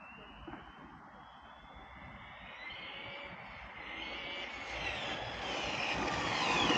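A Traxxas Fiesta 4S RC car drives some distance away, its motor making a steady high whine that slowly rises in pitch and grows louder over a low background rumble.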